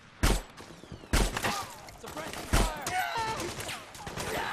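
Gunfire in the video game Metal Gear Solid 4, three or four sharp shots spaced about a second apart, with a voice talking in between.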